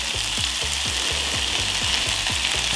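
Potatoes and chorizo fry in a pan with sweet pepper and onion, giving a loud, constant sizzle with regular scraping stirs underneath and no voices.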